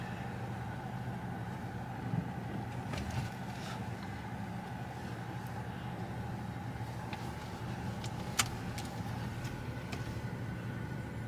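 A car driven slowly by a learner driver: a steady low engine and road drone from inside the cabin, with a few faint clicks and knocks, no talking.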